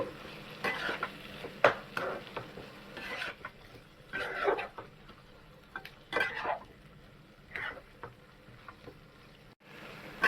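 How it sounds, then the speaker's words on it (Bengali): Potatoes and spices for mushroom kosha are stir-fried in a pan, heard as a quiet background sizzle broken by intermittent scraping strokes and clinks of a spoon against the pan. "আলুটা দিয়েও আমি এক থেকে দেড় মিনিট ভালো করে কষাই নেব মশলা আর আলু"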